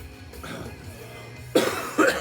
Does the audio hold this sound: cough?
yes